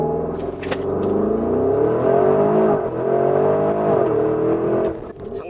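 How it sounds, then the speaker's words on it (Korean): Porsche Cayenne Turbo GT V8 launching with launch control, engine revving loud and close with a rising, then falling and climbing roar through gear changes over several seconds. "런치 컨트롤을 이용을 해서 출발을 합니다."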